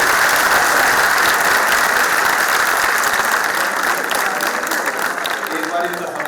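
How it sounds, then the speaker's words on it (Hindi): A large audience at a poetry recital honoring martyrs claps steadily and loudly in sustained applause, holding an even dense roar of hands that eases slightly at the very end. "पद्मिनी जी का स्वागत कर दो, ताली बजा।"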